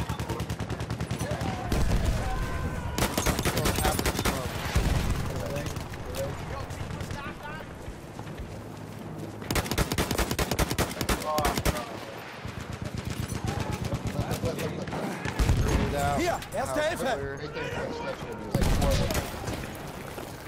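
Machine gun fire in a video game battle comes in dense rapid bursts, several sustained stretches of loud rattling fire separated by brief pauses, with people talking over the fighting.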